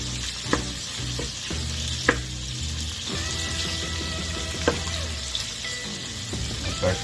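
Garlic sizzles steadily in a hot pan while being stirred around, with occasional sharp clinks of the utensil against the pan and faint water-like sounds in the background; no one speaks.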